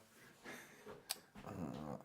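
A pet dog growls low and close in a quiet room, two rumbling spells split by a short sharp click, with no talk over it.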